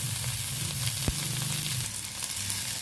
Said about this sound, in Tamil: ஒரு பெரிய வெங்காயத்தை நீள நீளமாக கட் பண்ணிட்டு சேர்த்துக்கலாம் சேர்த்துட்டு இதை வந்து பார்த்திங்கன்னா நல்லா வதக்கிக்கலாம்